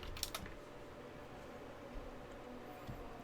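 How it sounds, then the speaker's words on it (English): Quiet typing on a computer keyboard during an art livestream: a short burst of close clicks at the start, then a few sparse keystrokes over a faint steady room hiss. "I'm not even typing that correctly."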